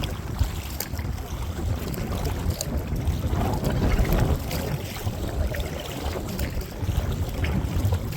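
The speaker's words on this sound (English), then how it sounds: "the wind's in our face right now" Wind blows steadily across a creek while a kayak or canoe is paddled, a broad rushing noise with microphone buffeting and faint water sounds throughout; no speech.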